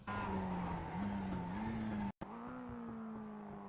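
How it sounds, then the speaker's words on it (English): A Mazda MX-5 in the iRacing game drops gears into a turn at Oran Park, its engine note stepping up with each downshift and then whining under engine braking, with a brief cut between shifts and faint tire noise. "Shift down quickly to make use of the engine brake, which lets you decelerate slightly faster"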